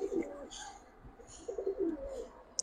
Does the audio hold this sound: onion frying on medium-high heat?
no